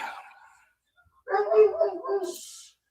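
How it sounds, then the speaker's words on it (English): A dog whimpers and gives short yips and barks from somewhere in the house, faint at first and then louder in a burst of whining cries after a pause. "You hear my dog in there?"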